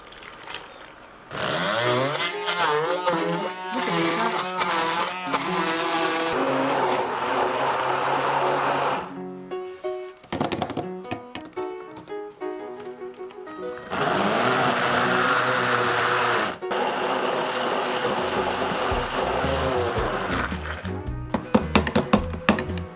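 A high-powered kitchen blender grinds kimchi seasoning made with anchovy-and-kelp broth, onion, green onion and salted shrimp for mustard-leaf kimchi, whirring loudly and steadily in two long runs with a short stop between them.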